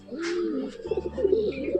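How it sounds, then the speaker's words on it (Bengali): A pigeon coos close by in soft, low throaty phrases, a short rolling call that pulses a little toward the end. "সুন্দর একটি পায়রা"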